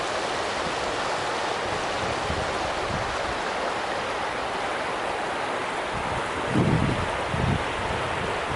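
A trout-stocked creek flows in a continuous, even gurgling wash nearby, with a couple of soft low thumps toward the end.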